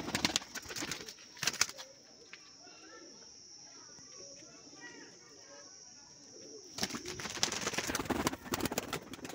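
Soft cooing of a pair of Teddy high-flyer pigeons nearby against a steady high hum, with clattering movement and rustling at the start and end.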